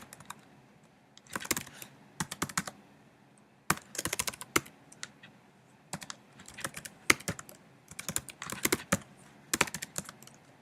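Typing code on a computer keyboard in rapid bursts of crisp, close key clicks separated by short pauses, with occasional louder single strokes and no voice.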